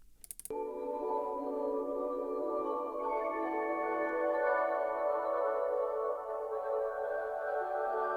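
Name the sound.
atmospheric synth loop from sample pack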